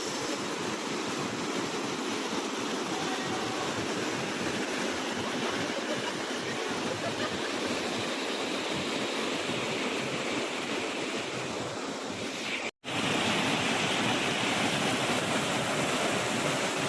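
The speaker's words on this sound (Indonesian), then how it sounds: "jadi inilah suasana air terjun di Sungai Makarti ya" A waterfall on the Makarti river roars in a steady, loud broadband rush from close by, unbroken throughout apart from a brief cut near the end.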